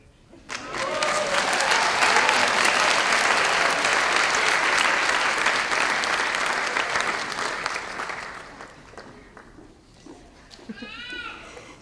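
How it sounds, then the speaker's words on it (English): A large crowd at a high school graduation ceremony applauds, starting suddenly and holding a dense, loud clatter of clapping for several seconds before fading, with scattered cheers and whoops as it dies down. "Can we have another round of applause?"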